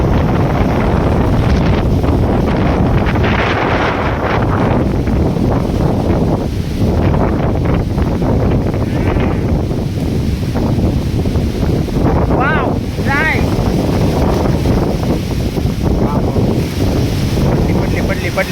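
Strong wind gusts blow hard outdoors around a jamun tree in a village, a constant loud buffeting roar against the microphone with rustling bursts, and voices faintly heard underneath.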